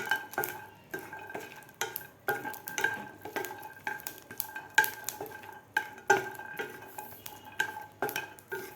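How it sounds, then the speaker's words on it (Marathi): Green chillies and garlic dry-roasting in a pan without oil, with a ladle scraping and clinking against the metal in quick, repeated strokes over a faint background sizzle. "त्याच पॅनमध्ये आपल्याला मिरच्यासुद्धा भाजून घ्यायच्या आहेत मिरच्या आणि लसूण मिरच्या आणि लसूणसुद्धा आपल्याला व्यवस्थित भाजून घ्यायचं आहे"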